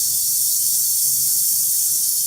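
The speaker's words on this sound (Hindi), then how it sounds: "तो ये सिर्फ 2 से 3 मिनट तक भूनना है, ज़्यादा नहीं भूनना है इनको।" Chickpeas roasting in a hot pan give off a steady, even sizzling hiss that runs unbroken for the whole stretch, with no voices.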